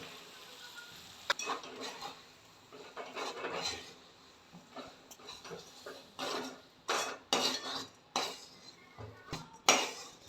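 A spoon scrapes and clinks against a pan as roasted finger millet flour is stirred with tempering and vegetables, irregular knocks and scrapes in uneven bursts, close and clear with no speech.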